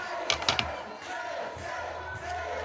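A wrestling crowd in an arena chants a wrestler's name, Jason, in a steady rhythmic mass of voices, with a few sharp shouts punching through near the start.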